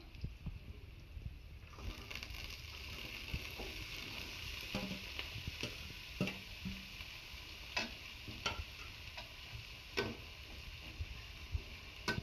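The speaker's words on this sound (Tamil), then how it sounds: "நல்லா வதக்கி விடணும். ஒரு 5 நிமிஷத்துக்கு நல்லா வதக்கி விடணும்." Carrot and cabbage sautéing in a pan for a poriyal, a quiet, even sizzle broken by occasional scraping and tapping stirs of a spatula, faint and without voices.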